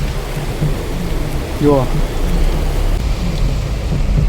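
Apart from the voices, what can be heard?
rain falling during a thunderstorm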